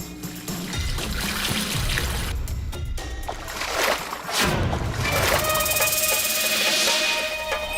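Magic mantra-charged water sprinkled as a horror story sound effect: a steady splashing trickle that runs the whole length, swelling in bursts, with no talk over it.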